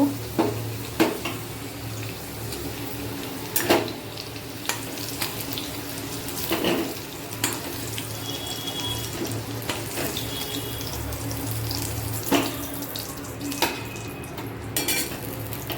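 Potatoes frying in a wok with salt and turmeric give a steady close sizzle, broken by repeated sharp scrapes and knocks of stirring, with no voices.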